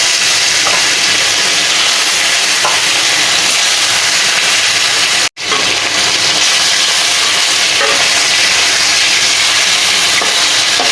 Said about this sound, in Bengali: আমি মাছগুলো ভেজে নেওয়ার জন্য কড়াইয়ের মধ্যে কিছু তেল দিয়ে দিব